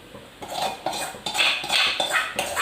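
Scrambled eggs are tipped into Maggi noodles in a pan on a home stove, heard as a run of close metal clinks and scraping taps of a utensil against the pan, several distinct strikes with no talking.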